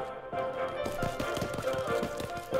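Footsteps in the horror game Dark Deception, a steady run of quick, fairly faint taps with a clip-clop rhythm over a dim ambient drone.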